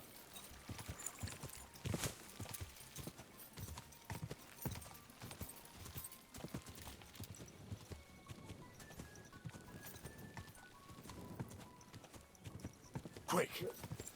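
Horse hooves clip-clop steadily in the video game Kingdom Come Deliverance 2, a continuous rhythmic patter of footfalls under game music and ambient noise, with a brief whinny near the end.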